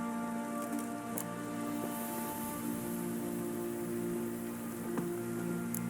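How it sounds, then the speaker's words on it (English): Light drizzling rain in the video game The Witcher 3 patters softly and steadily, faint against a low sustained musical drone. "Oh, it's drizzling."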